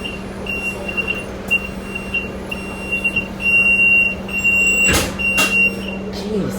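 A steady high-pitched electronic beep repeats in short pulses inside a rumbling KMB bus on route 11K in Hong Kong, with engine hum throughout and a couple of brief clunks.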